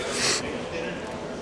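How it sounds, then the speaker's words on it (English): A brief sharp nasal sniff, a quick burst of airy hiss near the start, close to the listener with low background noise continuing. "excuse the sniffles"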